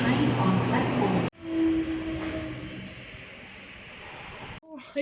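At a station platform, a train rumbles with a hum and a brief tone, heard at moderate distance amid indoor room noise, with people talking nearby.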